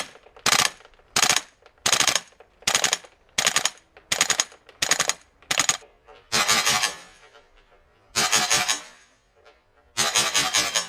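A WE SMG-8 airsoft gun fires on full auto in short rapid bursts, about a dozen sharp mechanical rattling volleys separated by brief pauses, close and loud with no talk.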